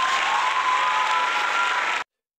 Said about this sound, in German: Großen Applaus für dich